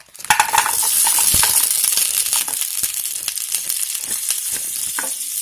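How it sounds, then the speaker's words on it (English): Meatballs drop into hot oil in a pan and sizzle loudly up close, a steady bright frying hiss with scattered pops and clinks of a utensil as they settle and cook. "let's get some meatballs in here"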